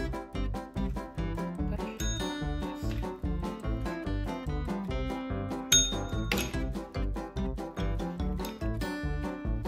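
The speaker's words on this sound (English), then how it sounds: "You gotta touch the bell." Dogs ring a tabletop bell for treats, producing a rapid series of bright metallic dings, loud and close, overlapping with several sharp clangs throughout.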